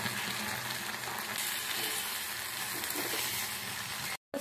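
Fried gobi manchurian tossed through sweet and sour sauce in a pan, giving a steady close sizzle and soft stirring scrapes, fairly quiet, with no voices and a brief drop to silence just before the end.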